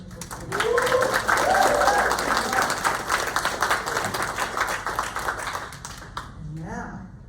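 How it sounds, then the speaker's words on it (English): An audience claps through a sustained round of applause at a staged follies show, loud and close at first and then slowly fading, with voices heard over it. "Let's have another round of applause for these wonderful people."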